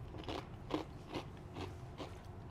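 Crunchy food being bitten and chewed, five or six crisp, close crunches spaced roughly half a second apart against a quiet background.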